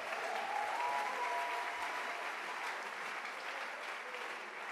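A church congregation applauds steadily and fairly loud for nearly five seconds, a dense wash of many hands clapping with no speech over it.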